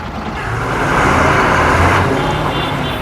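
A small loaded goods truck pulls away at the start of a cotton-bale haul trip, its engine a steady broadband rumble with road noise that swells slightly and then holds, close and loud with no voices.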